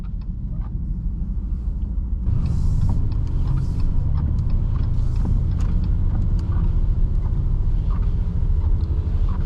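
A 550-horsepower all-wheel-drive 2026 Dodge Charger Sixpack muscle car pulls away on snowy roads, its engine rumble building after about two seconds into a steady, loud drone heard from inside the cabin, with no voices.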